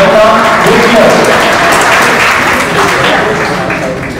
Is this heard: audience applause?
yes